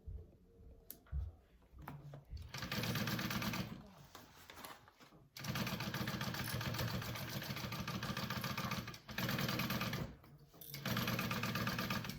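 A close sewing machine top-stitches a bag pocket in several loud, steady runs of rapid stitching, separated by short pauses.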